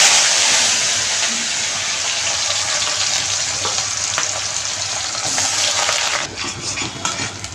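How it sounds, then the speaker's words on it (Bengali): Onions frying in oil in a wok hiss loudly and continuously up close, with a few stirring scrapes toward the end. "এবার একটু এই পেঁয়াজগুলো ভেজে নেব।"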